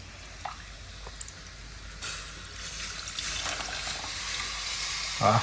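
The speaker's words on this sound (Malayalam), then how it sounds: "വാളംപുളിയാണ് കേട്ടോ ഒഴിക്കുന്നത്" Tamarind water pours into a hot pan and sets off a steady, building sizzle that stays loud and close to the end.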